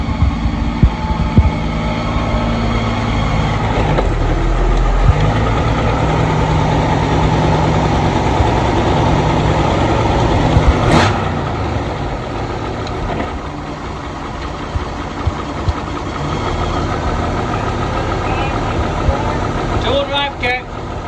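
An AMC Eagle engine idles steadily with a low continuous throb and hum, running while it is shifted between two-wheel and four-wheel drive, with people talking over it.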